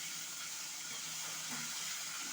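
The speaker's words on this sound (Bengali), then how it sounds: "এই আগে মাছটা ভেজে নেবো, দিয়ে তারপরে মাছের ডিম ভাজবো।" Hilsa fish frying in a pan gives a steady, faint sizzle and hiss that holds evenly throughout with no voices.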